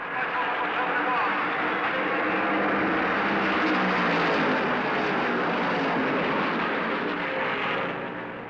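Loud, continuous roar of 1970 NASCAR stock cars, including a Mercury, accelerating hard at the green flag of the Darlington Southern 500, a dense engine wash that holds steady and tails off slightly at the end.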